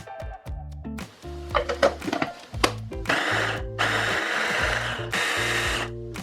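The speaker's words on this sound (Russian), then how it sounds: "Перекладываю мясо в блендер." Boiled meat being chopped in a blender, which runs in repeated short whirring bursts separated by pauses, then settles into longer continuous grinding runs toward the end.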